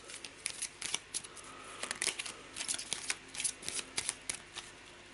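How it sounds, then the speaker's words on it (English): A dark grey-green Smuggler's Cove deck from the board game A Touch of Evil is shuffled in close, crisp riffles with papery flutters and snaps in quick bursts. "So let's give it a shuffle."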